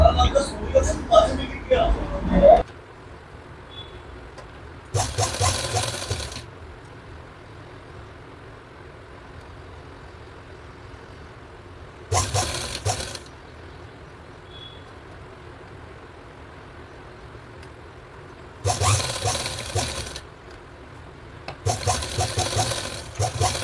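A sewing machine stitches the pleats of a nauvari blouse in four short bursts of steady whirring, separated by quiet pauses, with a brief voice and handling noise at the start.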